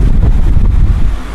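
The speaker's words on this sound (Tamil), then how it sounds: "ஃபேன் ஓடுது." An electric fan running close to a microphone, a loud, steady low rumble and buffeting whoosh like wind noise, continuous with no talk.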